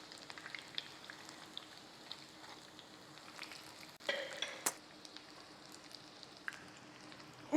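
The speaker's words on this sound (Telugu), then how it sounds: "ఇలా నూనెలో వేసి చక్కగా వేయించుకుందాం." Chicken katsu frying in hot oil gives a faint, steady crackling sizzle with scattered pops and a few louder spatters near the middle, close by and with no talking.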